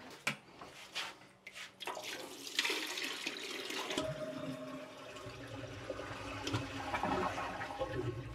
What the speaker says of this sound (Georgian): ზღვის წყლით ვეხდება ტუალეტის ჩარეცხვა.